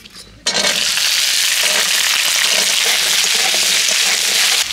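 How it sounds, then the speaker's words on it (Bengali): Okra (bhindi) hits hot oil after a brief quiet moment, bursting into a loud, dense, crackling sizzle that holds steady and close up to the end, with no talk over it. "এবার আমি ভেন্ডি ভেজে নিচ্ছি।"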